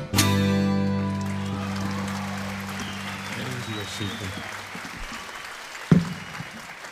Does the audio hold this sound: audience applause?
yes